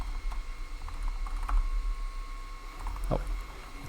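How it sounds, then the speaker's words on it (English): Soft, scattered keystrokes on a computer keyboard tap at a quiet desk, with one brief clattering burst near the end and no voices. "I'm going to type in connector"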